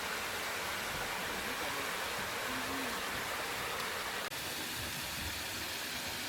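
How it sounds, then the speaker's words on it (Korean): A small waterfall spills into a Japanese garden pond, a steady unbroken rush of water that stays even and close throughout. "작은 폭포가 흐르는 풍경 덕분에 시원한 기분이 들었어요"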